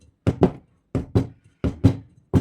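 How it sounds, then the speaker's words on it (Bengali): A bowl of cake batter for a milk-based malai cake, lined with tissue paper and greased with oil, is tapped down on a hard surface in four paired knocks, sharp and close, with short silences between. "এটাকে একটু ট্যাপ করতে হবে"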